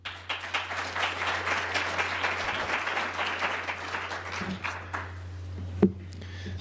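An audience breaks into sustained applause to welcome a speaker at an e2e introduction event for Bright Agrotech, a steady wash of many hands clapping at moderate loudness that thins out toward the end, with a low steady hum underneath.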